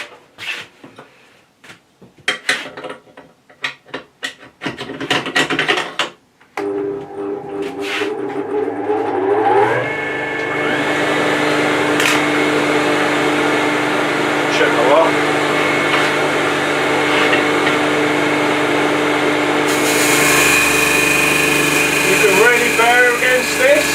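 A heavy-duty DS300 sanding machine fitted with 80 grit paper starts up after some handling noise, then runs with a loud, steady drone and a raised whine near the end. Someone talks over parts of it.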